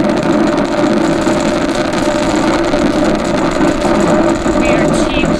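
A loud, continuous deep roar of nine Merlin engines on a SpaceX first stage at launch, steady and rumbling without breaks, heard from a distance with a broad, dense texture.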